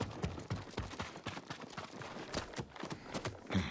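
A horse's hooves clip-clop at a steady trot in the video game Ghost of Tsushima, quiet and continuous, with rapid rhythmic thuds over soft ground.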